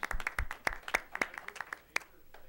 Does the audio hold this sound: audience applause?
yes